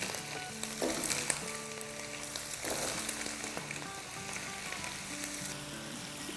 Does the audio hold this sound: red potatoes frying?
yes